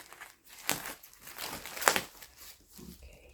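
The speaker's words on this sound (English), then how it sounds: "Okay, so I gotta open this bag." A plastic bag is opened close up with quiet crinkling and crumpling, including a couple of sharper rustles and a brief tearing sound.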